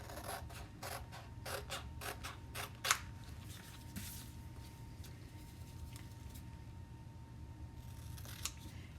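Scissors cut apart a chalk transfer in quick, faint snips that come in a rapid run early on, then thin out into scattered soft clicks and rustles over a quiet room hum.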